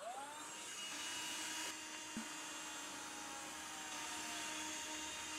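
Steady whirring drone of a vacuum cleaner in a cat vacuum invention, running continuously and fairly close, with no talking.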